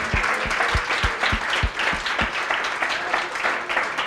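A church congregation at a special Children's Day service claps in unison for the Lord. The sharp claps repeat in an even, quick rhythm over a layer of broader applause, moderately loud throughout.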